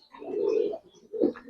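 Giribaz racer pigeons coo close by in a farm loft, two low throaty bursts with a short pause between them and no one talking.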